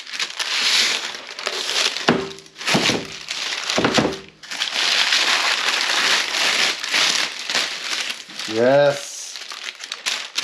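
Parchment paper crinkles and crumples loudly in close, continuous bursts, with brief pauses and a few knocks from clamp work on a large cube-pattern cutting board in a workshop.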